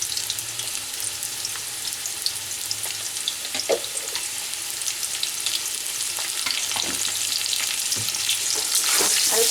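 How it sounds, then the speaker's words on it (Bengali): Potatoes fry in hot oil with salt and turmeric, a continuous close sizzle broken by occasional clicks and scrapes of stirring, with no talking. "সামান্য লবণ আর হলুদ দিয়ে আলুটা আমি খুব ভালো করে ভেজে নেব।"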